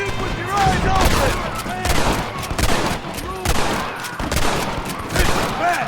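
Rapid, loud gunfire in the video game Red Dead Redemption, repeated volleys of shots in quick succession throughout, with shouting voices mixed into the battle din.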